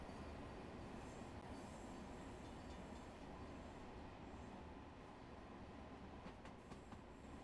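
A Long Island Railroad M7 train in Train Sim World rolls past with a steady broadband rumble and rail noise, faint squeals and clicks appearing toward the end, no talk.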